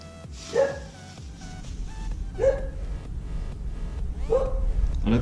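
A dog indoors gives three separate loud barks spaced about two seconds apart, with a fourth starting at the end, over steady low background noise.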